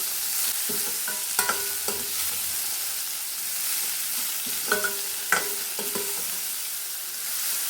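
Long beans (achinga payar) with salt and turmeric being stirred in a frying pan, a steady soft sizzle broken by a few sharp scraping clicks of the spatula, close up and with no voices.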